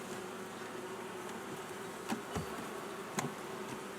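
Honeybees buzz softly around an opened hive while it is being readied for winter, a faint steady hum with a few light knocks of frames, no talking.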